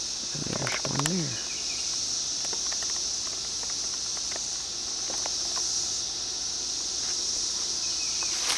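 17-year periodical cicadas drone in a continuous high-pitched chorus that holds steady throughout, with brief closer chirps and rustling early on.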